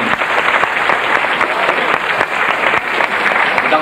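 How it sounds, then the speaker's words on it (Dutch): Audience applause after a school disco musical, dense steady clapping from a large crowd filling the room at a loud, even level throughout. "Dus die hebben ook een applaus gekregen."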